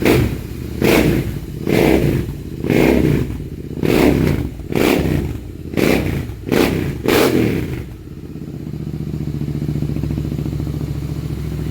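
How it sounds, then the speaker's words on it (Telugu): Royal Enfield Interceptor 650 exhaust firing in a series of strong, rhythmic blips and revs for about eight seconds, then settling into a steady, loud idle rumble, close up with no talking. "ఇదంతా ఎగ్జాస్ట్ సౌండ్."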